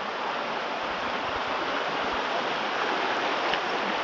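Water rushing along Mill Creek and over its waterfalls: a steady, full, unbroken roar of flowing water, close and loud, with no voices.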